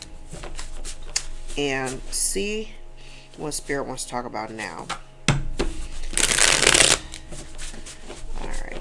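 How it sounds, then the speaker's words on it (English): A deck of tarot cards is shuffled for a reading, a loud, close burst of riffling after someone speaks, with steady room hum underneath and her voice returning afterward. "we're going to go into the shuffle deck"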